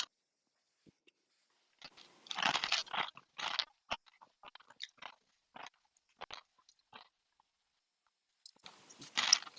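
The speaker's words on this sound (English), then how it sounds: "I can hear chips crunching." Potato chips crunched and chewed close to a microphone during a live online call, in several irregular bursts of loud crisp crackling separated by quiet pauses, with no talking.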